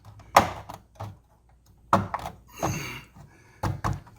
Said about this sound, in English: now we want to push it back to lock it in tabs